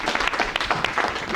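Audience applause closing a showcase event, dense continuous clapping from many hands heard steadily throughout with no voices over it.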